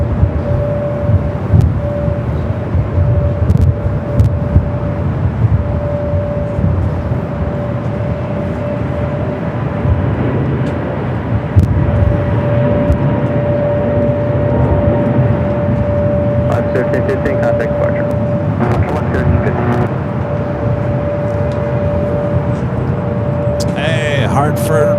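Boeing 787 Dreamliner roaring at Los Angeles airport, a loud sustained jet rumble with a steady whine throughout, while people talk nearby.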